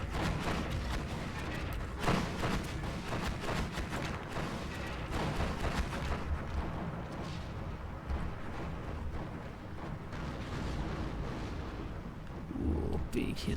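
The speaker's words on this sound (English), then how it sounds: "we are getting hit by those mortar rounds" Mortar rounds burst around a squad in the Steel Division 2 war game, a dense run of heavy booms and rumbling detonations rolling on through the whole stretch with little pause.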